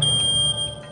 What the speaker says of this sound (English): 17 minutes in, with barely any smoke in the room, the photoelectric sounds the alarm.